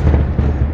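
New Year fireworks exploding over Dubai, a short burst of dense, close booming rumble that stays loud throughout.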